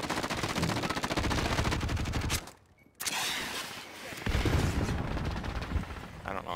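Rapid automatic gunfire from a video game, a dense loud stream of shots broken by a brief gap, then more fire with softer clatter behind it.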